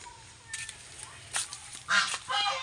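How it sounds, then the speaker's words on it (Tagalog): A pet crow named Waki caws in a few harsh, short bursts, moderately close, the last calls louder and longer, with faint background noise between them and no talking. "Yung makulit nating uwak."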